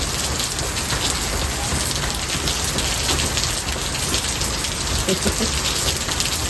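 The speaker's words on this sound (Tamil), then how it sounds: "மழையே விடாது இருக்குது மழை விடுற மாதிரி தெரியல" Heavy rain pours down steadily, a dense, even hiss of drops drumming on surfaces close by, with a few faint, indistinct voices briefly audible beneath it.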